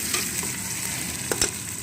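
Long-cut sliced onions sizzle steadily in hot oil in a kadai for mutton kadai, with a constant broadband crackle and a couple of brief stirring scrapes near the end; no voices.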